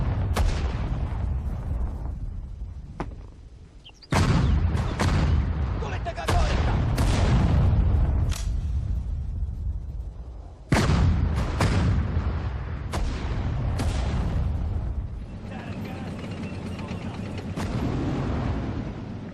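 Repeated heavy artillery blasts in the Sudden Strike 4 strategy game during a Soviet assault on the Mannerheim Line, sharp booms every second or two with rumbling tails, loud and close.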